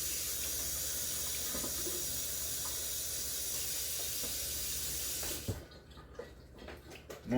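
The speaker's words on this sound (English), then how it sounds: "Let me get just a little bit of water here." Tap water runs steadily into a container for about five seconds in a kitchen while soup is being made, a loud broadband rush that cuts off abruptly and leaves a few faint drips and clinks.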